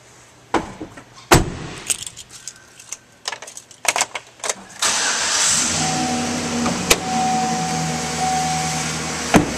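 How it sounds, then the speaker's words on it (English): A 2012 Chevrolet Silverado 1500 LT Z71 4WD extended-cab pickup starts up after several clicks and rattles, its engine catching and settling into a steady, fairly loud idle that runs through the rest of the moment. "And now we'll start up the vehicle."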